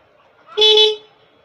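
A Honda RS 125 Fi motorcycle's dual horn sounds one short, loud, bright beep, close and alone against near silence.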